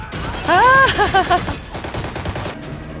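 Gunfire from an episode of The Falcon and the Winter Soldier: a loud, rapid fusillade of sharp cracks that follows a brief vocal outburst.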